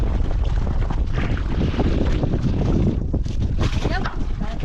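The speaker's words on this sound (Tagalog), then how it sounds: "Naglakas na lalo yung hangin." Strong wind buffets a fishing boat at sea, roaring loud and gusty against the microphone without a break, with faint voices mixed into the rush.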